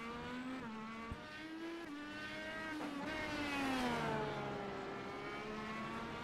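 Race car engines in an iRacing Formula Touring league race on the final lap, a steady loud whine with rising and falling pitch as cars shift gears and pass, several engines overlapping throughout.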